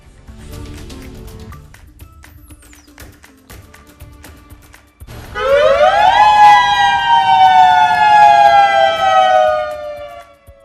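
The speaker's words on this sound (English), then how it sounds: "Yesterday, these sirens sounded across the state for about a minute for testing." A loud Hawaii statewide emergency warning siren test starts partway through, a steady wailing tone that holds and slowly falls, sounding alone after quieter background noise.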